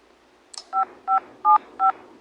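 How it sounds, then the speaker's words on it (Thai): Mobile phone dialing tones in the Avatar World video game: a quick chirp followed by four evenly spaced, crisp keypad beeps, clear and close with no voices. "เดี๋ยวเราก็จะเอามือถือมาคุยกัน"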